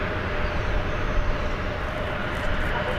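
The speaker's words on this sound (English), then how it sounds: "Oh, that was the plane from Fort Wayne landing." A passenger plane from Fort Wayne landing at DFW Airport, a loud, steady jet roar that fills the whole stretch without letup.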